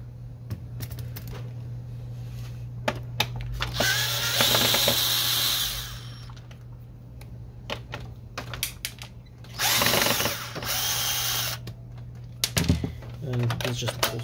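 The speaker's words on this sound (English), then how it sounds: "remove the two screws right here" Power screwdriver backing two screws out of a Canon Pixma MG5520 printer tray, with two loud, close whirring bursts of a few seconds each, separated by handling clicks and brief talk.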